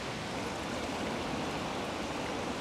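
Steady broadband rushing of a small river's shallow water flowing over rocks, continuous and fairly close, with no voices.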